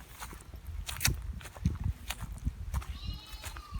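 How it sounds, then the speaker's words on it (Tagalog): Goats in a herd along a forest walk, with faint, scattered bleats over footsteps and outdoor rustle, fairly distant and intermittent. "Daming kambing."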